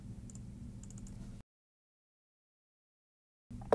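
Keystrokes on a computer keyboard while working in Rhinoceros 5 3D modelling software, a soft run of clicks for about a second and a half, then silence, then a brief final tap.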